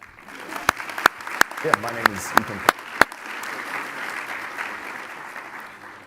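About eight loud, evenly spaced claps ring out close by, with a person speaking briefly partway through; the rest fades into quiet room noise.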